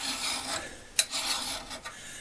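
Hand file strokes rasp across the metal of a North Bros Yankee No 990 drill press vise, a steady close scraping with a sharp accent partway through and shorter strokes after.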